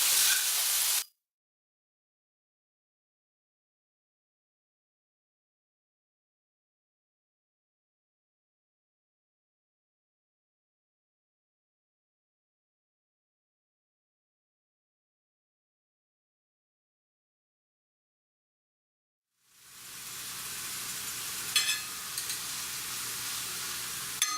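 Pork for okonomiyaki sizzles in a frying pan. Hissy frying noise comes in a short burst at the start, then a long silence, then a few seconds of crackling sizzle at the end.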